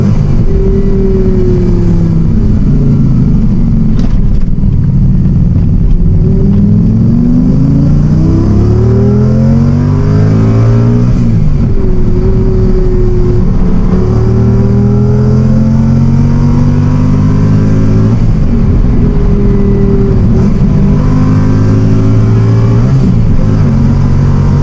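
A Lamborghini Gallardo replica car fitted with a MagnaFlow muffler revs loudly and continuously, its engine note rising and falling in repeated sweeps, close to the microphone with no talk over it.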